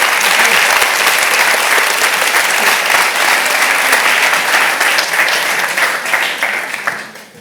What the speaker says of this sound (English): big round of applause to Jorge André